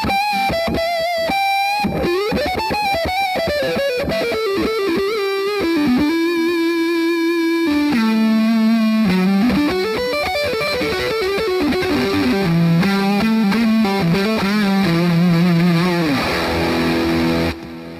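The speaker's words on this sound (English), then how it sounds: "Now if I go onto the neck pickup, it's going to give it a very, very smooth, creamy, overdriven tone" Overdriven electric guitar on the neck pickup plays a smooth, creamy sustained melody with bends and long held notes, loud and alone.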